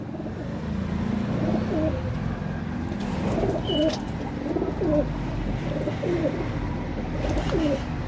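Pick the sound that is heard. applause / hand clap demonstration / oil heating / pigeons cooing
pigeons cooing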